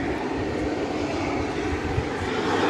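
An airliner takes off at DFW Airport bound for Chicago Rockford International, a loud steady broadband engine roar with a deep rumble that holds constant throughout, with no talk.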